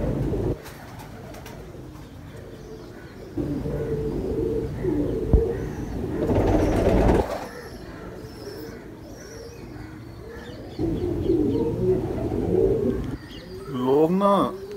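Ferozpuri pigeons coo in low, rolling bursts at close range, with several separate calling spells and soft chirps between them, while someone talks in places.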